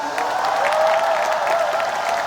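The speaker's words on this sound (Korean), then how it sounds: "우리 시장님께도 다시 한번 큰 박수 부탁드리겠습니다" An audience at an outdoor K-pop festival concert gives a sustained round of clapping, steady and moderately loud, with no voices over it.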